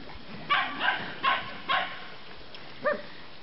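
Several quick dog barks and yips in a loose burst, fairly close, followed by one more yelp after a short pause.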